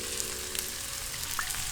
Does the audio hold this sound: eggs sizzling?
yes